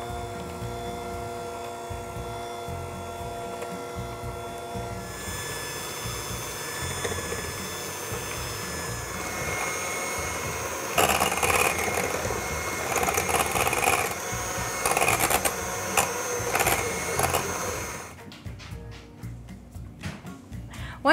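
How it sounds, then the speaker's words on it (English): Electric mixer whipping cream toward stiff peaks, a steady mechanical whir that shifts in pitch as the beaters work, louder in the middle stretch before cutting off near the end. "all we're going to do is beat it until stiff peaks form"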